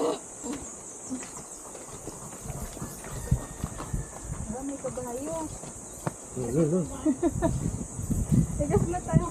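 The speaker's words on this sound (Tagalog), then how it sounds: "May kabayo." Horse hooves clip-clopping in a steady rhythm at moderate distance during a ride, mixed with insect or cricket chirping, with voices talking over parts of the sound.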